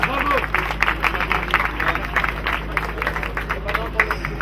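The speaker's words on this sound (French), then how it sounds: "Et bien les applaudissements donc aujourd'hui Sébastien Failla pour le team Petrax." A crowd at an awards ceremony for a racing team applauds with steady clapping, while a voice talks over it and background chatter carries through the room.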